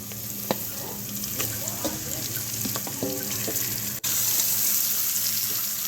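Onion and chicken feet and head pieces frying in oil with a steady bright hiss, broken by occasional clicks and utensil taps, close and fairly loud.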